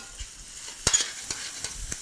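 Chopped chicken livers and meat fry in a pan for Cajun dirty rice, a soft sizzle under sharp, scattered scraping clicks of a utensil stirring, close and fairly quiet.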